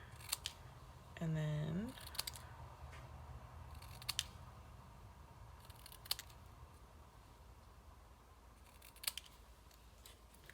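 Scissors trimming cardstock for handmade cards make several sharp, crisp snips spaced a second or two apart, close but quiet, with a brief low hum early on and a few spoken words.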